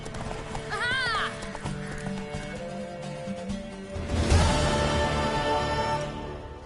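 Horse hooves clip-clop rhythmically in the Witcher 3 video game, with a whinny-like sound near the start and a louder surge of movement later, set against game ambience and music.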